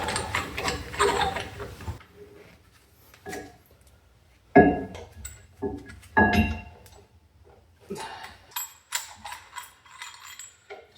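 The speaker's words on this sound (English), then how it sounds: "I'm still going to use the tool to push the piston back in" A brake caliper piston tool is worked against a car's brake piston, giving off irregular bursts of metallic clicking and ratcheting with quiet pauses between them, close by.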